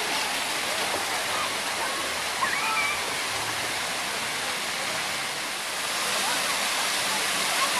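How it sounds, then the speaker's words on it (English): Water pours steadily from a shower at a water park, a dense, even hiss that runs without a break. People talk faintly beneath it. "Is that a good shower?"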